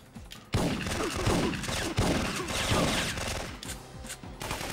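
Shotgun fire in the Syphon Filter video game comes in repeated heavy blasts over constant combat noise, loud and close, with speech faintly present.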